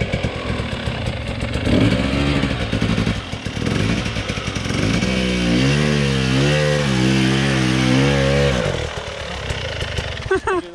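A motorcycle crossing a stream revs hard and loud, the engine surging and falling in rising and dropping whines, with a rider's voice over it.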